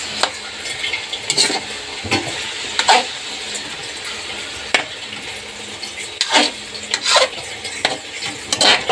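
Food sautéing in a pan at home, with a soft steady sizzle under repeated scraping and stirring strokes and occasional clinks of a utensil against the pan, close by.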